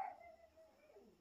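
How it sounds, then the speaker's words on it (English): A dog barks outside, heard as one faint, distant bark trailing into a soft whine, muffled through walls, with no talk. "Oh, the dog's barking outside."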